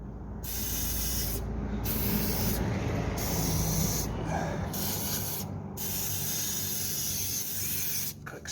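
An aerosol spray hits the rear suspension bush of a Hillman Superminx in a series of close, loud hissing bursts of varying length, separated by brief silent gaps.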